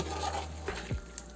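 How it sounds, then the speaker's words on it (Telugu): Chicken biryani mixture cooking in oil in a pot is stirred, producing a soft low scrape and a brief clink against the pot over a faint background hiss, quiet and without speech. "ఒకసారి కలుపుకుందాము"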